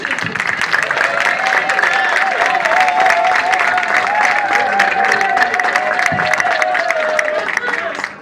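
Loud, sustained applause fills a ceremony hall, many people clapping rapidly together while voices rise and a tonal cheer or ululation runs through the crowd noise.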